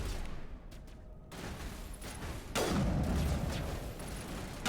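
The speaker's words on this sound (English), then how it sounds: "Sniper shooting me." Sniper gunfire in a video game, a sharp blast cracking out midway through a muffled, noisy in-game soundscape with no talking.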